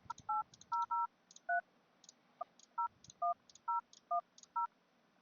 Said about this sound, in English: You would dial your number in here.